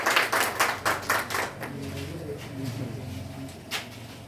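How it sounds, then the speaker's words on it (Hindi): Audience applause at a school toppers' award ceremony: about a second and a half of brisk, dense clapping that then stops, leaving quiet room noise with a faint low hum and a brief knock near the end. "ठीक है, नीरज जी के लिए फिर से एक जोरदार ताली।"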